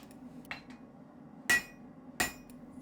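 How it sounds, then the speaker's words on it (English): Steel bar struck with a hammer at the edge of an anvil while being forged into a knife blank; three sharp metallic blows, one light and two heavy, spaced apart over a low steady hum. "the key here is to roll the steel at the edge of the anvil"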